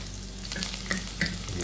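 Leftover rice frying with garlic in a hot pan gives a steady close sizzle, with a few brief stirring scrapes and no voices.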